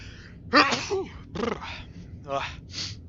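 A single sharp sneeze bursts out near the start, followed by someone speaking.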